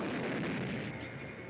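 A cartoon explosion sound effect from a Road Runner and Wile E. Coyote short, a pothole blowing up: one loud, booming burst that decays into a rumbling, crackling tail, heard alone.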